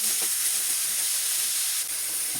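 Chicken pieces frying in a pan with sautéed garlic and onion for pininyahang manok sa gata, giving a steady, close, bright sizzling hiss throughout.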